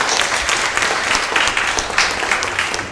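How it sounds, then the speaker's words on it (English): An audience claps for a participant named Rosalind who came up during a community event, a dense steady burst of many hands close by for about three seconds with no talk over it. "Give Rosalind a round of applause for coming up"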